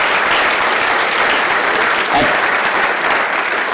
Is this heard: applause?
yes